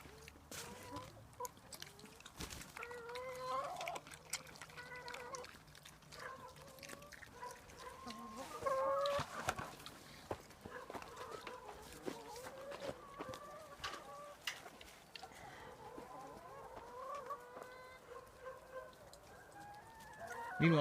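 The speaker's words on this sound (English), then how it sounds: "Chicken." Chickens cluck and chatter steadily nearby while a pig grazes and roots through tomatoes, with scattered rustling and occasional louder squawks throughout.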